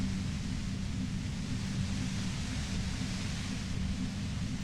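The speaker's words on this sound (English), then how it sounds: "I'm enjoying this white noise." Constant white-noise ambience from the detective game Disco Elysium: an unbroken, even hiss with a heavier low rumble, steady in loudness and with no voices.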